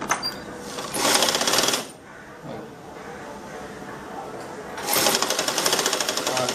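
A sewing machine stitches along the folded edge of a nighty in two bursts of rapid, loud mechanical whirring, with a quieter pause between them and speech underneath.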